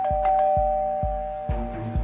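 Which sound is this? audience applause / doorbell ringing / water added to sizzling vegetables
doorbell ringing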